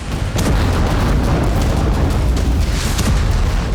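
An Al-Yasin 105 missile strikes and destroys an Israeli Merkava tank in Gaza: a loud, close, sustained roaring blast that erupts suddenly and rumbles on without a break.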